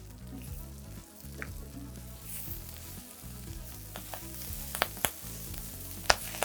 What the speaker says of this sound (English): add them to the pan and just cook them over a medium-high heat